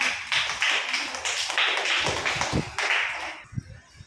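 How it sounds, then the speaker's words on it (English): A class of schoolchildren clapping together in an English lesson, a burst of many small hands patting in uneven rhythm for a few seconds before it trails off into quieter taps. "Clap, clap, clap."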